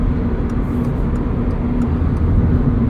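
2022 Subaru BRZ fitted with a 4.3 rear differential cruising at 75 mph around 3,400 RPM, a steady loud engine hum with road and wind noise inside the cabin, unbroken and without talk.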